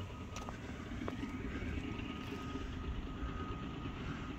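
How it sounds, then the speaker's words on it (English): A large Cummins power generator runs outdoors at an equestrian center building, giving a continuous low engine drone with a steady hum and a few faint clicks, fairly quiet and unbroken, with no talk. "Another one of these big, huge Cummins generators."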